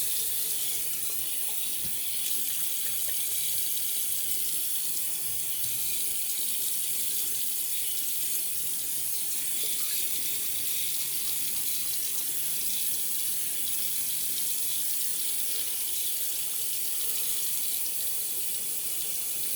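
A bathroom sink faucet runs steadily while the face is wetted before the final against-the-grain shaving pass with a 1952 Gillette razor; the water hiss is close and continuous throughout, with no talking.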